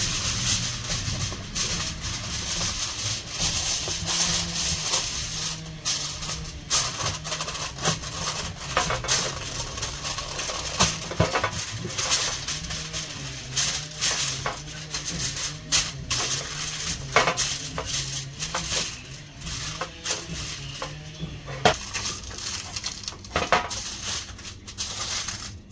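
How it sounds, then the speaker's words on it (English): Aluminum foil is pressed and smoothed into a baking tray in a home kitchen, giving a steady close crinkling and rustling for the whole stretch, with occasional light clinks over a low background hum and no talking. "The next thing we're gonna do is to wrap the tray with an aluminum foil, rather to line the tray"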